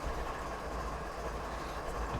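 Train passing on rails in a railroad simulator game at Marias Pass near Whitefish: a steady, low rumbling roll of wheels and cars, fairly faint and continuous, without talk.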